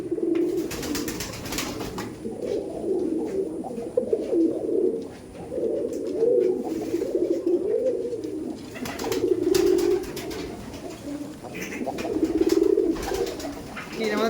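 Imported Giribaj pigeons coo in repeated rolling bursts, close and steady, with brief pauses between phrases and faint background noise throughout.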